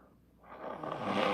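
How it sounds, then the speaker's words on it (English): A congested, rising snort of air builds over about a second, loud and close, like someone forcefully blowing their nose. "Sorry about blowing my nose"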